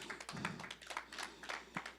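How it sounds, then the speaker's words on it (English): A church congregation claps hands in an irregular, fairly quiet patter of overlapping claps, with no voices on top. "Come on and clap those hands for Jesus"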